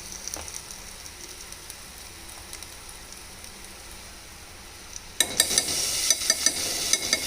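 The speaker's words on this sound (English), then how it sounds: "With a quick saute." Ginger and garlic paste sautéing in a pan while making chole, a quiet stretch giving way to a louder, crackling sizzle with bright spitting pops in the final seconds.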